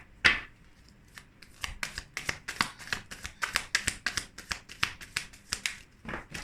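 Tarot cards shuffled and drawn by hand: a rapid run of crisp, close card flicks and snaps with a brief riffle at the start, steady and light, no voices.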